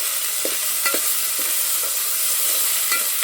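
Ground masala stirred in a pan for chicken vade, cooked over a wood-fired stove: a loud continuous sizzle with soft scraping strokes of the spoon sounding at irregular intervals.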